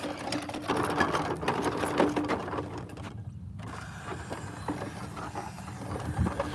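A paint striping machine spraying field lines on a high school football field: a continuous mechanical spraying and rattling hum runs throughout, with a brief dip in the hiss partway through before it resumes.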